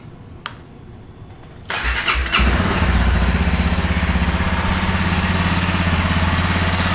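After a quiet moment and a click, a 2015 Honda CRF250L motorcycle engine cranks, catches, and settles into a loud, steady idle close by through its stock exhaust.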